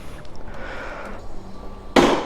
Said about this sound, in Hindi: पहले इस गाड़ी को करते हैं कोल्ड स्टार्ट।